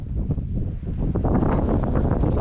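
Gusty wind blows outdoors, a steady rushing roar with buffeting against the microphone that builds louder over the second half, with no speech.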